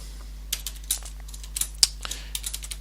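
Typing on a computer keyboard while entering programming code, a run of light, uneven key clicks close by, quiet and with no voice.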